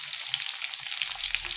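Chicken pieces fry in hot oil for a chicken pickle, giving a steady, dense sizzle with crackling pops throughout and no voices.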